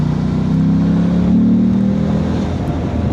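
Mobidelli T1002VX adventure motorcycle engine pulling steadily under light throttle up a hill, a loud, smooth continuous drone that swells slightly and holds without breaks.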